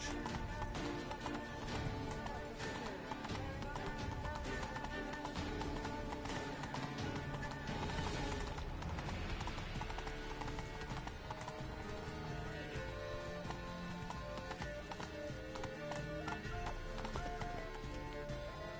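Hoofbeats of Roach, the horse in The Witcher 3: Blood and Wine, galloping in a steady rapid clip-clop under continuous game music and ambience, with a brief whinny-like burst midway.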